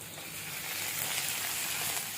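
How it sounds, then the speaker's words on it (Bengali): Chopped tomato and ginger fry in a pan, a soft, steady hiss of sizzling that is fairly quiet and continuous, with no speech. "টমেটোটাও ভালো করে ভাজা যাবে, সব ভাজা যাবে।"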